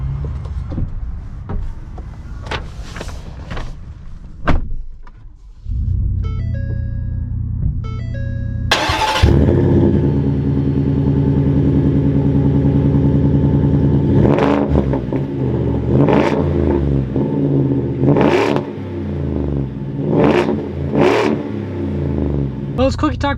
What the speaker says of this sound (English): let's take this Harley Davidson edition out and see how she drives